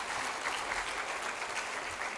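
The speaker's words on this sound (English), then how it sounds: "Can we have a huge round of applause for the eminent dignitaries on the dais" Steady applause from a conference audience greeting the dignitaries on the dais at an inaugural session, a dense, even wash of clapping that holds at the same level throughout with no voices over it.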